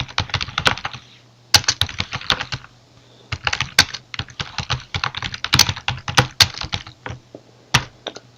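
Computer keyboard typing as an Oracle RMAN backup script is entered, with bursts of rapid clicky keystrokes separated by short pauses, close and clear, and no talking.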